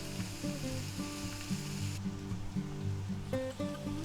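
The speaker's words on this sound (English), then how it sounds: "we're going to add some chopped spinach leaves in there. Just sprinkle them around." Chopped spinach leaves sizzle in a pan with chicken fettuccine Alfredo, a steady close frying hiss with some stirring and no talk.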